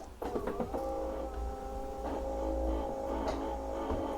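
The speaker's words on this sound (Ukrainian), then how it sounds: "відчуття, що кавмашина працює так потужно. Зараз робимо цей дабл еспресо." Nivona 769 automatic coffee machine brewing a double espresso: a close, steady mechanical pump whine and hum follows a few short clicks at the start and continues through the clip, with no talking.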